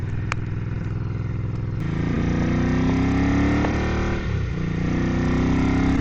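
A 1978 Ducati Bevel 900 motorcycle engine runs loud and close, with a throaty, rumbling note. Its pitch rises and falls as the throttle is revved and eased.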